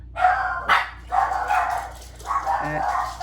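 Dogs barking close and loud, a rapid series of repeated barks with brief yips between them and no talking over them.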